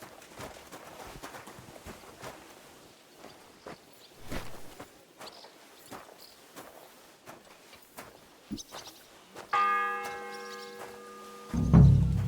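Church bell ringing in the medieval game Kingdom Come: Deliverance 2, a single loud tolling strike near the end after footsteps and hoof-like clops on a quiet street, with a deep low thud following.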